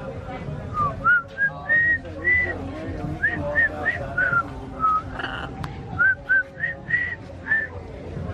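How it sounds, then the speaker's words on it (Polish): A person whistles a wavering tune in a series of short, distinct phrases at a hotel beach resort, with steady background ambience underneath and no talk over it. "Nie mogę gwizdać."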